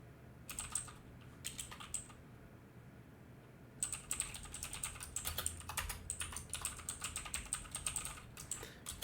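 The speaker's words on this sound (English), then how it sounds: "Just to make sure I type that correctly." Rapid keystrokes on a computer keyboard come in bursts, two short runs early, then a long dense stretch of typing with brief pauses, close and clear with no talking.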